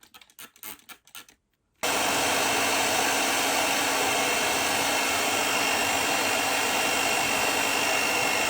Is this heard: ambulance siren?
no